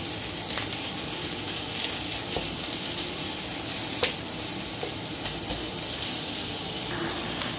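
Ground pork (giniling) sizzling and hissing in a hot pan for a home dinner, a steady crackling fry with occasional sharp pops and scrapes of stirring, no talking.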